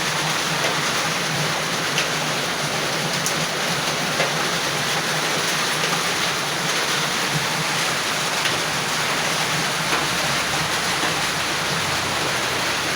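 Floodwater rushes in a dense, unbroken roar during a typhoon in Surigao City, steady and close, like a heavy torrent with no voices over it.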